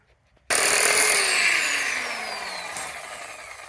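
Power tool on a trailer starts abruptly and runs as a steady whine that slowly winds down in pitch over a few seconds, close and fairly loud.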